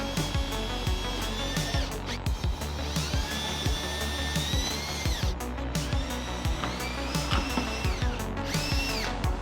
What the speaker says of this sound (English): we pre-drilled some holes